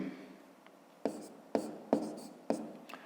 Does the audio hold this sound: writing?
yes